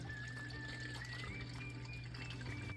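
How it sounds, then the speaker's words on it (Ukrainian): Water is poured into a saucepan holding jars of cabbage salad so they can be sterilised, making a steady, close, continuous splashing rush against a low background hum. "Далі заливаємо в каструлю воду, так, щоб вона не доходила до краю банки."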